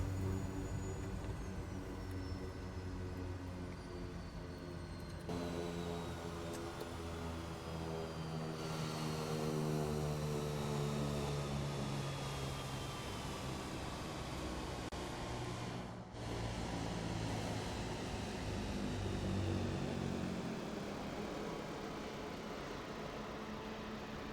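Airplane in a video game landing and then taxiing, a steady engine drone with a broad noisy roar and faint tonal whines shifting slowly over about twenty-four seconds, with no talking.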